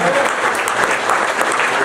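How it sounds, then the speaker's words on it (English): A comedy club audience gives loud, continuous applause for the servers, a dense wash of clapping close at hand with a murmur of crowd voices underneath. "Give your servers a big round of applause."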